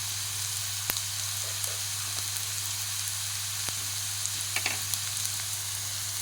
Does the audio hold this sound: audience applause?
no